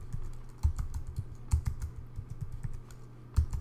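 Soft keys clicking on a computer keyboard as a password is typed, a few irregular bursts of taps over a steady low hum, close and fairly quiet, no talking.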